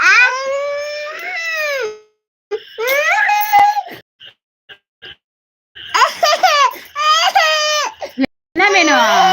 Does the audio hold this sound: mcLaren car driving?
no